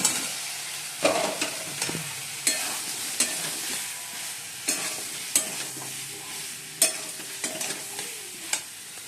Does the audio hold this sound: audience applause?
no